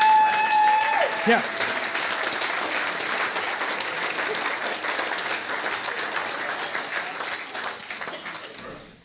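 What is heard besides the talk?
wedding guests giving a round of applause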